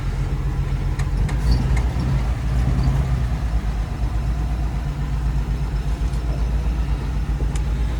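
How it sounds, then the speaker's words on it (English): A 1964 Dodge A100 engine with mechanical lifters runs steadily nearby, giving an even, low idling rumble with a faint busy texture throughout and no voices. "That noise on these engines is normal. They have mechanical lifters until the late 70s,"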